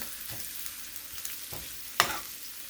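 Mushrooms and onions frying in a pan with curry powder, giving a soft steady sizzle with a few stirring scrapes and one sharper clatter near the end.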